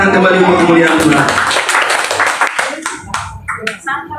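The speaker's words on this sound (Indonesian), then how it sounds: "Mari tepuk tangan kembali untuk kemuliaan Tuhan" A congregation at a Jakarta praise-and-worship service claps together, loud rhythmic clapping at first that fades out, followed by scattered claps and a voice talking over the tail.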